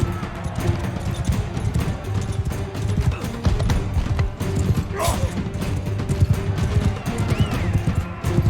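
Rhythmic hoofbeats thud quickly and steadily as a horse gallops in the video game Bannerlord, with clattering game sound effects layered around them.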